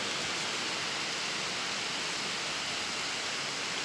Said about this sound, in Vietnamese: Trời lại mưa rồi.